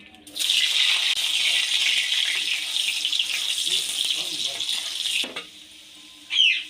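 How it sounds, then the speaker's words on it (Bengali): Potatoes drop into hot mustard oil in a kadai and fry with a bright, steady sizzle that holds for several seconds, then stops abruptly, followed by a brief clink near the end. "তেলটা গরম হয়ে গেছে, এবার আলুগুলো ভেজে নেব"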